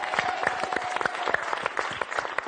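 A French afternoon game-show studio audience claps steadily and close, with crisp, dense applause that holds through the whole short stretch.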